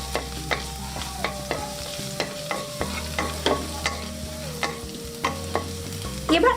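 Half a teaspoon of chopped garlic is stirred and fried in a pan for vegetable soup: a soft sizzle under a steady hum, with regular spatula scrapes and taps close by.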